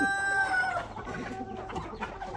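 Chickens cluck close by while a rooster lets out a crow at the start, followed by a busy run of clucking and scratchy fowl calls with no talking.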